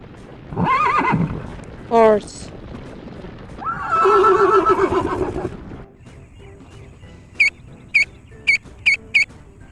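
A horse gives loud, shaky whinnies that rise and fall, then a lower, quieter stretch with a few sharp, regularly spaced hoof-like clicks.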